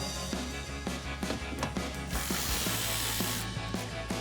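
A tool removes 8mm screws from the fender well of a 2019–2024 RAM 2500 pickup, giving dense, close ratcheting and rubbing bursts with a steady background noise.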